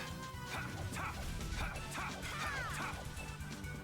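The Illusory Dog attack in the video game Tales of Vesperia brings repeated sharp dog barks and yips over a busy mix of battle crashes and thwacks.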